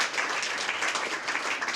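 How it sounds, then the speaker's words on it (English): An audience at a water conservation summit brunch applauds the presenters, a dense, even burst of clapping from a roomful of people, close and fairly loud for the whole short stretch. "we give them a very nice round of applause for their great presentation"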